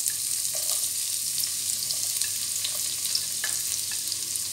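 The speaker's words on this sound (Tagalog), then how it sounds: "So, igigisa na natin." Chopped onions sautéing in oil in a pan for bistek bangus, giving a steady close sizzle with occasional stirring clicks and scrapes throughout, no talking.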